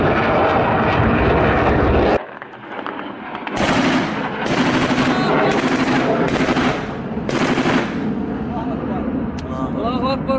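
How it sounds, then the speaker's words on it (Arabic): MiG-23 jet of the Syrian Air Force during an air strike: a loud roaring engine with bursts of gunfire, dropping briefly near the start, then returning strong, with shouting voices mixed in. "استهداف طائرة ميج 23"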